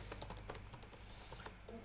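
Rapid clicking of keys on a computer keyboard as a search query is typed, a quick irregular run of close, fairly quiet keystrokes under a low background hum.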